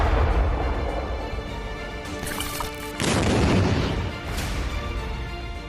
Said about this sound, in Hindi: एक धमाका और सब खत्म।